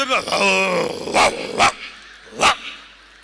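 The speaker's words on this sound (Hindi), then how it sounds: "ये कुछ कुत्तों के भौंकने की आवाजें आ रही हैं।" Several dogs barking in short loud bursts, a few separate barks spaced over a few seconds, with a growl-like sound at the start.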